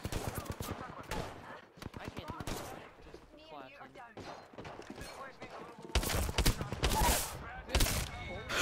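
Rapid bursts of gunfire in the shooter game Apex Legends, clustered volleys of sharp cracks with brief gaps, heaviest near the end, mixed with game sounds and voices.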